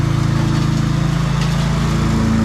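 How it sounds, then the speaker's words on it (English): A lawn mower runs steadily nearby with a loud, pulsing engine drone and no break in its sound. "mowing the lawn over here"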